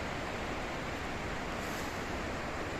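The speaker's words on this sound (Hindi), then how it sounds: "और ये पूरा झरना देख लीजिए, आवाज़ सुन सकते हैं आप," A waterfall on the Ukhimath to Chopta route in Uttarakhand gives a steady, dense rush of falling water, constant and even throughout with no voices over it.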